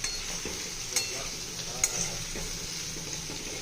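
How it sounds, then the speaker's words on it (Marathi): Raw mango pieces being sautéed and stirred in a pan, with a soft, steady sizzle and occasional light clinks of a spoon against the metal, heard up close without talk. "आता आपण कैरी छान परतून घेतली आहे"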